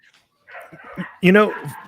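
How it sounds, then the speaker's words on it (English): Many dogs bark outside, producing short, yelping bursts mixed in with a person talking nearby. "I don't know if you can hear all tons of dogs barking out there"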